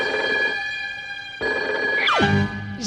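A telephone bell rings indoors in a cartoon scene, its steady tonal ring repeating in bursts with a brief pause between them, and a falling whistle-like effect sweeps down near the end.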